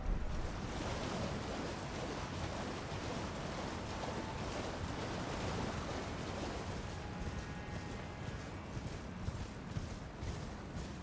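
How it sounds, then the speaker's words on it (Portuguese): A waterfall in Elden Ring: Shadow of the Erdtree pours as a steady, dense broadband rush, continuous and fairly loud throughout with no talk. "A cachoeira aqui."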